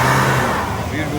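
A BMW car revving its engine at a Scottish car meet, a loud, steady mid-pitched engine roar that fills the short moment close by, with crowd chatter mixed in.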